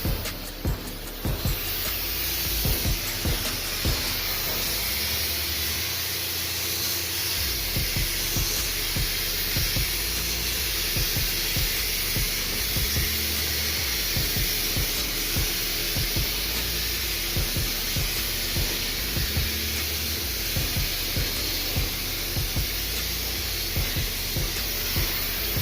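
A spray gun shoots red paint, thinned 2:1 with 441 reducer, onto a two-color car panel being resprayed after a clear coat failure; a loud continuous airy hiss runs without pause for the whole stretch, with no voices.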